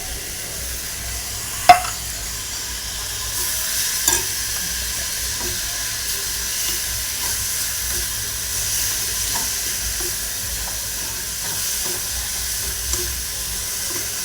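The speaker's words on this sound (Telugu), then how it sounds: "ఇలా మంచిగా 2 నిమిషాలు కలుపుకొని తిప్పుకొని ఆపేసుకుంటే సరిపోతుంది." Amaranth leaves and moong dal curry being stirred in a pan, with a soft steady sizzle and faint scraping throughout and one sharp utensil knock near the start.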